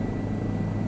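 Simulated helicopter rotor and engine from Microsoft Flight Simulator, a steady low throbbing drone with continuous mid hum, even and sustained throughout with no voices.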